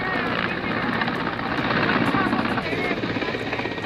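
Rescue helicopter flies over a flooded river on the Sindh in Madhya Pradesh's Chambal region, its rotor chop loud and steady throughout, with a voice talking over it.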